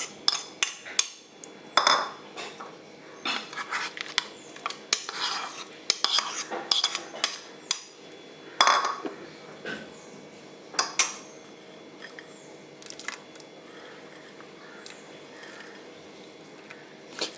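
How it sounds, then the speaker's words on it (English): A spoon clinks against a bowl while fruit pieces are stirred into custard, a series of irregular light metallic taps and scrapes with quiet pauses between. "So now I'm going to add all the fruits to the custard."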